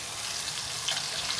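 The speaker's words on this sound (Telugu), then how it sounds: "ఇప్పుడు అల్లం పేస్ట్ వేసుకొని వేయించుకుందాం" Ginger paste frying in hot oil for a chicken pickle, a steady close sizzle and crackle without pause, with no one talking.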